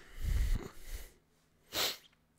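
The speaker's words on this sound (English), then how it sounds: "That was a lot of sneezing." A person sneezing, a loud burst with breathy snorting near the start and a second sharp sneeze toward the end, close and separated by brief quiet.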